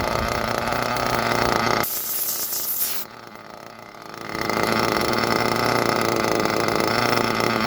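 A nitro engine idles low during break-in, a steady buzzing hum with hiss, broken by a brief louder whoosh and a short dip before the idle drone resumes, close by.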